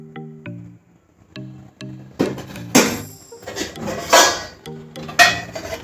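Wheat rava upma being stirred in a pan, with a lid handled over it: a series of close metallic clinks and clatters of spoon and lid on the pan, some sharp, spaced irregularly, with no talking.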